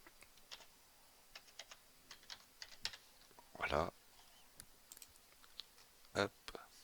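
Quiet computer-keyboard typing: scattered soft key clicks with a couple of louder, denser bursts of keystrokes, close and faint, no voices heard.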